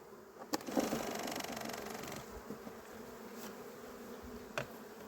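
Honey bees buzzing thickly on a hive frame being shaken during a sunflower honey extraction, a dense close drone with a few sharp knocks, without speech.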